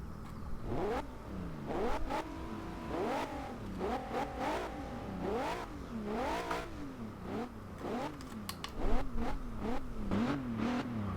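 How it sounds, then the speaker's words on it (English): A 2014 Maserati Ghibli S engine revs repeatedly in the video game Forza Horizon 2, pitch climbing and dropping in quick surges with a throaty, synthetic edge, steady and close throughout. "let's see how the Maserati Ghibli sounds"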